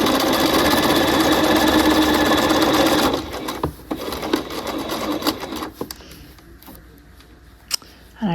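A home sewing machine pad-stitches canvas into a half-scale jacket lapel, running loud and steady for about three seconds before stopping with the needle down, leaving quieter handling noise and a few small clicks.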